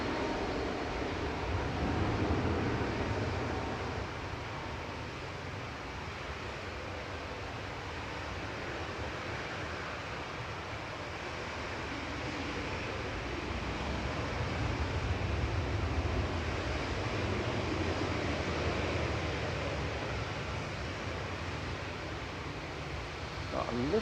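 A Boeing 737 MAX 8 at Manchester Airport, a broad steady jet roar at a distance that swells and eases over time, mixed with wind rumble and someone talking over it.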